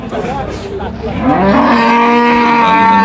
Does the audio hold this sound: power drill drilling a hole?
no